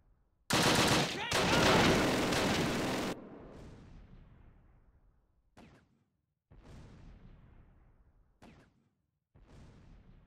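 A long, loud burst of machine gun fire rattles in a Close Combat war game, followed by several shorter gunshot and explosion bursts that decay with echoing tails amid battle noise.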